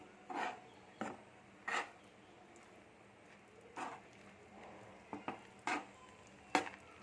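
Several separate scraping, stirring strokes of a spoon through thick chegodilu flour dough in a hot pot, irregularly spaced against a quiet background.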